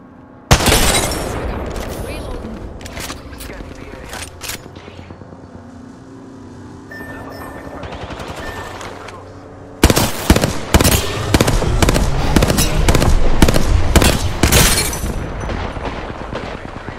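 Apex Legends game gunfire as players take fire, a dense, loud run of booming shots and rapid bursts with a quieter middle stretch, then heavy fire again. Game voices and talk run underneath throughout.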